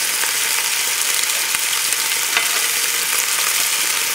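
Beef sautéing in a coated All-Clad pan for a Moroccan tajine, a steady, loud, continuous sizzle and crackle with scattered pops throughout and no talking.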